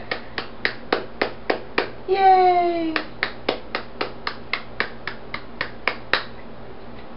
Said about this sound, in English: Say clap, clap, clap, clap,